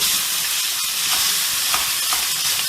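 Curry leaves and asafoetida fry in hot oil while cooking peanut rice, giving a steady, close, unbroken sizzle with faint crackles and no voices.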